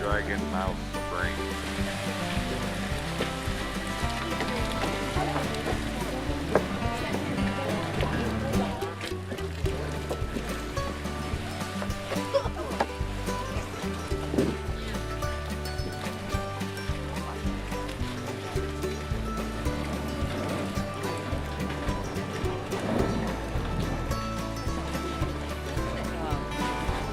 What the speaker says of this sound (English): This is Dragon Mouth Spring.